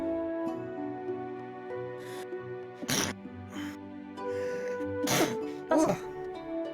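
A sharp, loud sneeze bursts out over steady tonal background music, followed by a couple more quick, noisy bursts.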